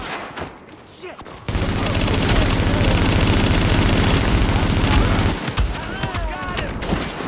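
Sustained heavy gunfire from a shootout in the video game The Division, a dense continuous burst of rapid shots lasting several seconds, loud and close, with scattered sounds and distorted voices before and after.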